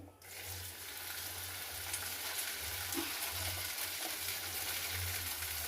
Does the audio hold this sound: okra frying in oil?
yes